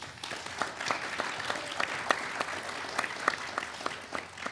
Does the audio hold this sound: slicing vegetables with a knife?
no